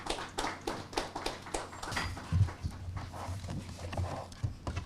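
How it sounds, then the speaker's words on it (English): Audience applause at a One Ghana Movement lecture, a dense patter of hand claps filling the room steadily at moderate volume, with a low hum underneath. "Round of applause, please."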